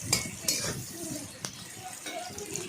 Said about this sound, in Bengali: কড়াইতে পেঁয়াজ ভেজে নিলাম তেল দিয়ে